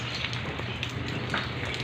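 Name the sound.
rain falling outdoors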